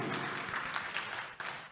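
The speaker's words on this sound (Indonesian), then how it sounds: "Tepuk tangan buat Tuhan Yesus" A church congregation claps together during a Sunday service, a brief burst of soft, steady applause heard from a moderate distance.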